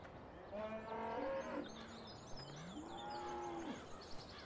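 Cows moo in the farming video game Farming Simulator 2017, with two long, drawn-out calls separated by a short pause, clear against a soft outdoor background with no talking.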